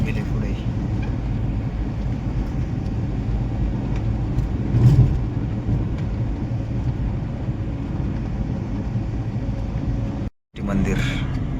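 The Shri Sai bus overtakes on the Mumbai–Goa road, a steady mid-pitched engine rumble and road roar heard from inside a vehicle, rising briefly as it passes, then a short dropout before the noise resumes.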